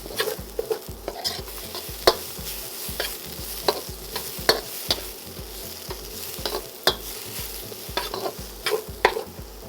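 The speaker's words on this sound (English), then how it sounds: "We'll lower the heat down to medium just to soften the onions." Onions with ginger softening in a pan over medium heat for a chicken stir fry: steady sizzling, with sharp spatula strikes and scrapes landing every second or so, nearby and alone.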